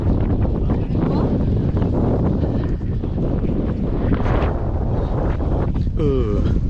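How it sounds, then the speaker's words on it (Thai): A cool breeze buffets the microphone on a trip to Koh Samui. A loud, continuous roar of wind noise fills the whole stretch, with a brief faint voice near the end. "ลมดีลมเย็นนะเนี่ย"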